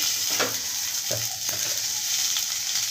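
Dry red chillies, cumin seeds, coriander seeds and a piece of onion roast in a pan for a gongura chutney, giving a steady close hiss broken by a few brief scraping stirs.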